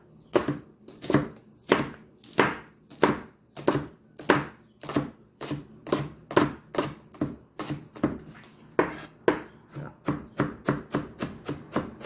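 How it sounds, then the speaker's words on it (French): A knife finely chopping a shallot on a board, a steady run of about thirty crisp, close knocks at a quick even pace, each cut sharp and clear with no talking. "vous avez qu'à ciseler l'échalote, comme ça. On va y aller très finement."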